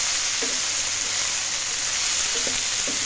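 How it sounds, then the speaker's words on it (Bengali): Okra (bhindi) frying in a pan with salt and turmeric as it is stirred, giving a steady close sizzle throughout with a few soft scraping touches of the spatula. "এবার ভালো করে নেড়ে চেড়ে হালকা করে ভেজে নেব।"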